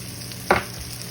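Vegetables in olive oil in a pan get one quick stir, a short sizzling scrape at close range that rises briefly above a faint, steady background hiss.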